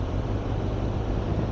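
A 1000 cc Kawasaki ZX-10R motorcycle while riding, a dense, steady engine roar mixed with wind rush, loud and continuous with no voices.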